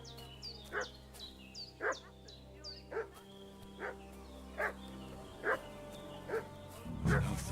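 A dog in a video game set in the 1400s barks repeatedly at a steady rhythm, around eight sharp barks at moderate distance over a faint background hum, with no talk.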